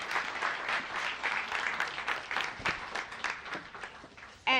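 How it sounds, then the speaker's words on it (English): An audience at a World Food Day celebration claps for a guest walking to the stage, steady moderate applause that continues for several seconds and then ends in a sudden loud knock. "Please give her a round of applause as we sit down to talk."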